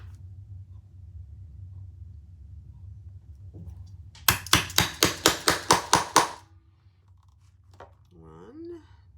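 Nine evenly spaced, sharp hammer blows set two rivets into a leather crossbody bag, ringing out loudly over a low room hum before the tapping stops and a brief voice follows.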